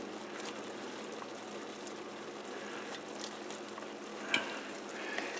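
Tomatoes sauté with gnocchi in a pan for garlic butter shrimp over gnocchi, a soft, fairly faint sizzle with light bubbling and one brief utensil tap near the end, with no voices.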